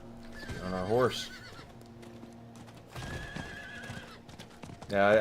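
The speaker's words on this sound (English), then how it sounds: "On our horse." A horse in Diablo IV neighs and whinnies twice with rhythmic clip-clopping hooves between the calls, moderately loud over game background sound, with people talking now and then.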